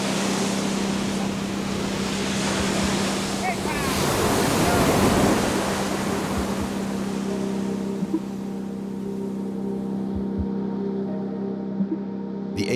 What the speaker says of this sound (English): The waves are going to keep getting higher.